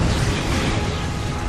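A deep, sustained roaring rumble fills the space as an explosion sound effect standing for the Big Bang, loud and dense throughout with no distinct onset or decay.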